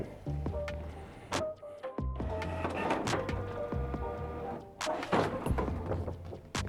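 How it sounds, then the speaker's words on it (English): A Canon Pixma MG4250 inkjet printer pulls folded cleaning paper in and out during bottom plate cleaning, giving a continuous mechanical whir with clicks and clunks of rollers and feed, fairly quiet and heard alone. "your printer will pull the paper in and out a couple times"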